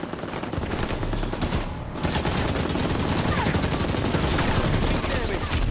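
Heavy automatic gunfire from a hostile Warthog vehicle in the Halo 5 Warzone video game, a loud, rapid, unbroken rattle of shots sustained throughout with dense background combat noise.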